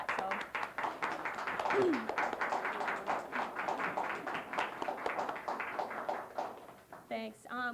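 Audience at a 1997 community television annual meeting breaks into a sustained round of applause, dense steady clapping filling the room for several seconds before a voice starts speaking at the end.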